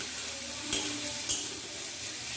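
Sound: stirring bitter gourd with salt and turmeric in pan

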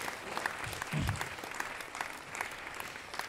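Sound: audience applause at stand-up comedy show

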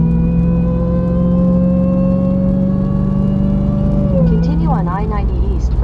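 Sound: supercharged Demon engine in Jeep Gladiator driving uphill

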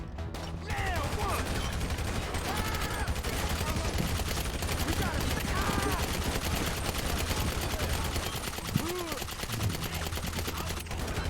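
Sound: gunfire in the video game GTA V

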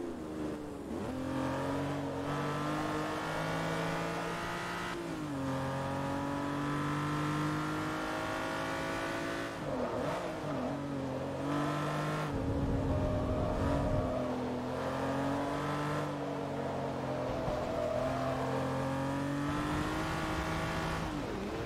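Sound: Lamborghini Murcielago LP640 racing engine in video game Forza Motorsport 3

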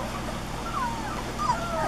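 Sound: puppies whimpering

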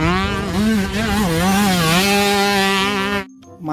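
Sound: toy motocross motorbike engine sound

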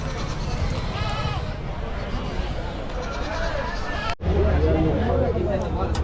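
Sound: goats bleating at Chakan goat market

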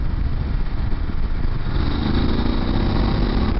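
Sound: BMW F850GS motorcycle engine during test ride

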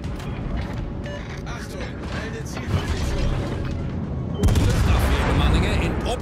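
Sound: naval gunfire with AP shells in a video game

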